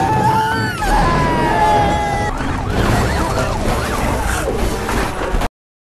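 Wailing vehicle siren with rising and falling tones, loud and close, joined by chaotic noise and screams from a horror film scene where lights and sirens are used to fool a creature.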